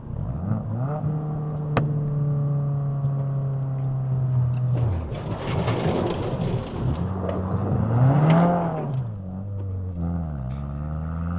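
A Subaru WRX is driven hard on a gravel road, heard from inside the car: the engine drones steadily, then revs and rises through gears and drops again, with gravel and road rumble underneath.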